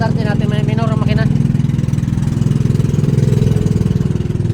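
A small engine runs at a steady idle after carburetor repair work, a loud close rhythmic putter that holds even throughout, with a brief higher tonal sound near the start.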